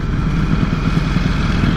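A 2020 Ducati Streetfighter V4 engine runs on the throttle while riding, a loud, steady, low rumbling drone with a gritty pulse, heard up close throughout and without speech.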